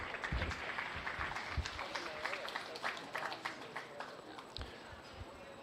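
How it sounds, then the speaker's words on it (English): An audience at a county fair beef show applauding for the young exhibitors, a steady patter of many hands clapping throughout at moderate loudness, with a few voices mixed in. "Let's give them a round of applause."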